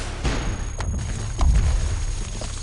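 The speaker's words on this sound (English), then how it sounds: "I sense explosions." Explosions in the video game Cogmind: low booming thuds build through the clip, the loudest burst about halfway in, over a steady game hum with no talk.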